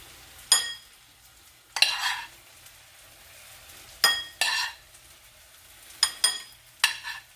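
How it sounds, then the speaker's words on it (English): Cauliflower rice goes into a pan and gets stirred, a handful of scraping, clattering strokes of the utensil against the metal spaced a second or two apart over a soft, quiet background. "So in with the cauliflower rice."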